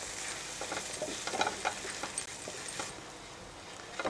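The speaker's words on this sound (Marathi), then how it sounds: "व्यवस्थित परतून घेऊया." Green chili, red chili powder and sambar masala sauté in a pan, a soft, even sizzle with light stirring scrapes and taps up close, quiet overall and without voices.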